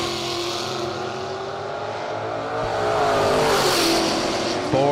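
Drag race cars, the Rum Runner in the left lane and a big Mopar in the right, roar at the starting line and launch, their engines loud and close, with a rising, howling rev toward the end.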